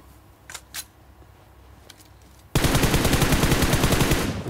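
P90 submachine gun fire in the Free Fire mobile game's Mecha event, a loud, rapid continuous burst that starts abruptly halfway through, preceded by a few faint clicks and quiet game ambience.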